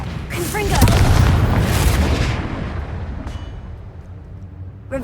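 Confringo fire-blast spell in Hogwarts Legacy, a loud booming explosion that swells early and rumbles down over several seconds, with a faint pop near the end.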